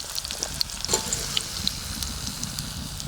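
Bitter gourd frying in a generous amount of oil, a close, steady sizzle with scattered sharp pops and crackles throughout, no voices.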